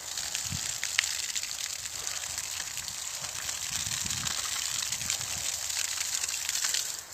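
Water gushes steadily from an Iraqi-made solar-powered submersible pump, a continuous broadband rushing and splashing outdoors that stays fairly even throughout, with no talk over it.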